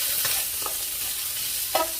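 Food stirred in a pan over a soft continuous sizzle, with a few light scrapes and one sharper knock near the end.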